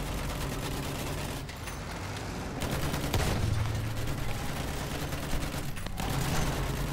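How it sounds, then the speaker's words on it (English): Machine gun fire in the World War I shooter Battlefield 1, a dense, continuous rattle of gunfire running loud throughout, with brief dips and surges of battle noise. "Machine gun."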